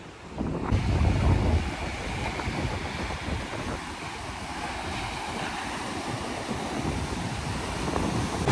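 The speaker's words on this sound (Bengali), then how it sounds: "আর এখানে কিন্তু প্রচুর পরিমাণে হাওয়া" Strong wind blowing at Bakkhali beach, a steady loud rushing roar across the microphone mixed with the wash of surf, continuous with no pauses.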